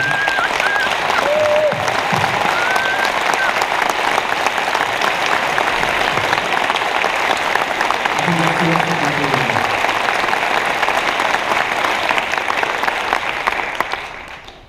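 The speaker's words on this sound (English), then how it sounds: "This applause is for you." A large audience at a Scrum gathering in Munich applauds conference volunteers, a dense, loud wash of clapping that holds steady for most of the stretch before tapering off at the end, with a few faint voices and whistles mixed in.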